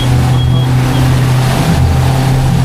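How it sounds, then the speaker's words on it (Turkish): A 60 hp Hidea outboard motor on a boat at sea drones loud and steady at idle, a close, constant low hum with no rise in revs. "Bakın 60 beygir motor."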